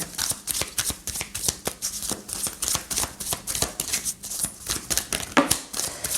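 Tarot cards are shuffled for a reading, a steady, close run of fast papery riffles and flicks that continues without pause and without talk.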